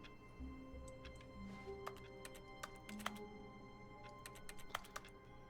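Keyboard typing sound effect from the video game The Arts Parable, a quiet run of irregular clicky key taps over a faint background hum and soft tonal game sounds.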